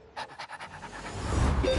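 A spaniel panting in quick, rhythmic breaths, close and fairly loud at first, then fading into a rising rumble of engine or wind noise.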